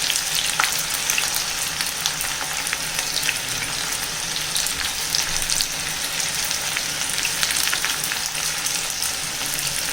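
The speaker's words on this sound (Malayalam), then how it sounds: "നമുക്കിനി ഇത് എണ്ണയിലേക്ക് ഇട്ട് കൊടുക്കാം." Pieces of banana stem (vazha pindi) frying in hot oil give a steady, dense sizzle with crackling pops, close and continuous throughout, with no voices.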